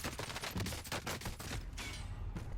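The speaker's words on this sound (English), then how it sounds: "he's shooting at you" Rapid, dense gunfire from Warzone multiplayer combat crackles in quick overlapping bursts, loud and close, with a continuous rumble of shots beneath.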